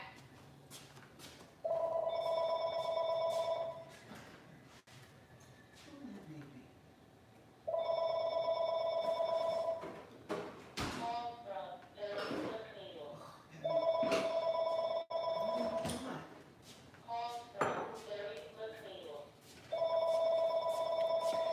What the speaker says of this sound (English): every time the phone gotta ring, I'll be right back